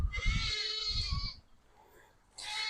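Goats bleating at feeding time on a country homestead in summer, two or three loud, close, wavering bleats in quick succession, then a short lull before another bleat starts.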